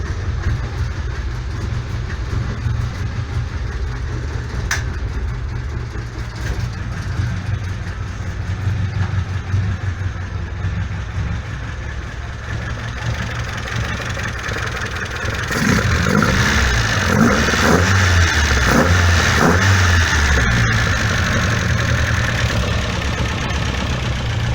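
A Volvo 142S car engine idles steadily up close with a low, continuous rumble, then rises in a rougher, louder rev for the final stretch.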